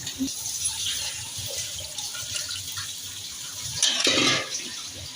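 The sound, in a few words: water added to cooking pan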